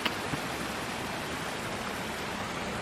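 Alpha Creek flows near Hungry Horse Dam in Montana, a steady broadband rush of moving water that stays even and continuous throughout.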